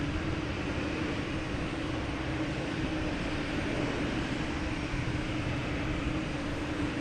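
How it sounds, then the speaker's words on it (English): A JetBlue Airbus A320 bound for Nashville at Boston Logan Airport gives a loud, steady, unbroken jet roar with a low engine hum, heard alone without talk. "we have JetBlue heading to Nashville in A320"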